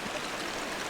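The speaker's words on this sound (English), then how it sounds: "It's going to be these 3 little cascades here with the waterfall in the background." Three small cascades of a stream with a waterfall in the background rush in a steady, close, broadband wash of flowing water, with no voices.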